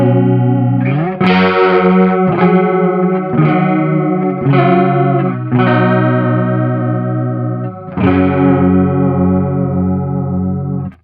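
Electric guitar through a Sonicake Cloud Chorus pedal at maximum depth, a series of strummed chords ringing out with a heavy, seasick warble and slight grit, each chord sustaining before the next, played alone.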